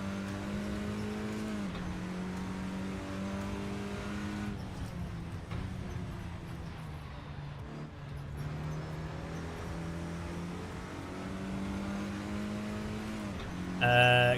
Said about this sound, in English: it sounds pretty like a road car, but with interior stuff removed, so you get more of an engine note.